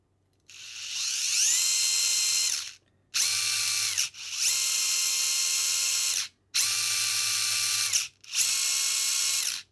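A Furitek Micro Beast RC brushless motor whines steadily in reverse, running in four loud sustained bursts of a few seconds each with brief silent gaps between them, each with a ratchety, drill-like buzz.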